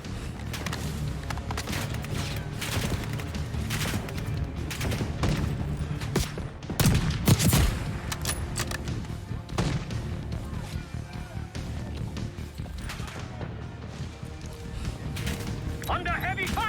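Heavy gunfire in Call of Duty Black Ops 6, continuous volleys of shots and crashing impacts through a busy firefight, with voices calling out over the noise.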